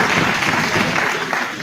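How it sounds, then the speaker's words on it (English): Applause from members in a parliamentary chamber honoring the President, a steady broadband patter of many hands clapping at close range for under two seconds, with some voices mixed into the clapping. "Let's clap for him."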